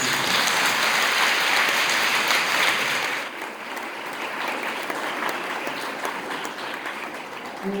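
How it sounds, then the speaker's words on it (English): An audience at a school English drama competition applauds, a dense, sustained clapping that fills the whole stretch, loud at first and easing slightly in intensity partway through, with no speech over it. "Shall we give a round of applause to the schools?"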